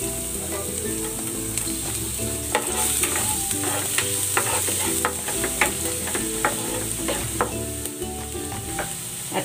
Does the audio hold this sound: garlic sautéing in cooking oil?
yes